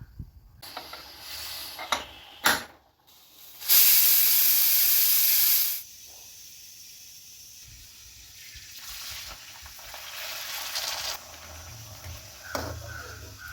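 A pressure cooker cooking chicken biryani lets off a loud, steady burst of hissing steam for about two seconds, framed by brief clatters and quieter stretches of low kitchen noise, with no talking.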